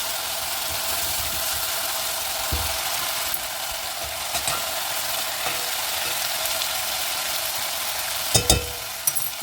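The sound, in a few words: stuffed chilies' masala frying in a pan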